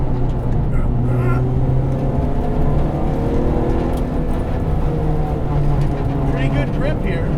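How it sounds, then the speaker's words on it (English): A K24-swapped Honda Civic EG hatchback on coilovers drones loudly from inside the car, its engine rising in quick revs on the downshift blips, with road and tire noise steady beneath. "Really revs up quick when you blip it for the downshifts."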